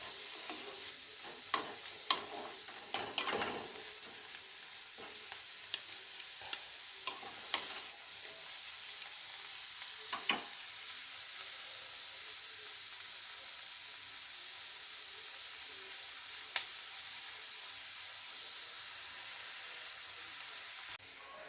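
Onions and vegetables for veg chowmein fry and get stirred in a pan. A steady hiss runs throughout, with scattered scraping clicks from the spatula early on that fade into a long, even sizzle. No voices.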